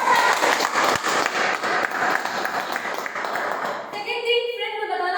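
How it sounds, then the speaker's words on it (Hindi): Audience applause honouring Dr Ajay Sharma at a business event: a dense, loud wash of clapping that fills the first four seconds, then thins as a voice begins speaking over the fading claps. "मैं चाहूंगी उनके लिए भी जबरदस्त तालियां होनी चाहिए"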